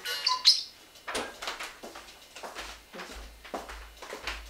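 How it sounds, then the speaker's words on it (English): Birdlike calls sound from a clicker-training session with a pet named Beanie Boy, a few brief chirps early on and then fainter ones, with soft clicks and light rustling in between. "we have to wait for the cuckoo"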